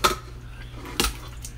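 Pieces of beef being prepared for Haitian fried beef are dropped into a metal cooking pot, giving two sharp metallic clanks over a low steady hum, with no talking.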